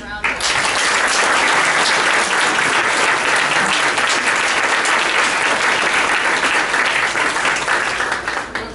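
Applause from a morning audience gathered for a UCLA alumni professional talk, dense and loud, steady throughout and tapering only at the very end.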